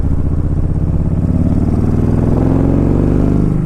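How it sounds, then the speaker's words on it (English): Kawasaki Vulcan Vaquero V-twin engine rumbling close and loud while riding, a steady low throbbing pulse that rises slightly in pitch toward the end as the bike accelerates, with no talking. "you get that V-twin grunt, V-twin rumble that a lot of people like"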